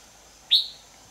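A single short, bright chirp from a wild bird near a bulbul trap rings out once, close and clear against a quiet outdoor background.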